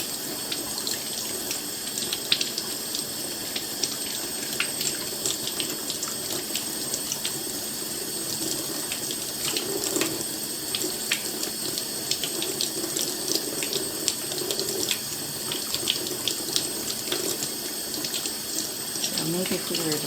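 Tap water running into a sink in a steady continuous stream, moderately loud and constant, with small splashes and clatter mixed in throughout.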